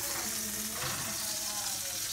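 A sirloin steak sizzles in a pan with butter, giving a loud, steady, close frying hiss that runs without a break.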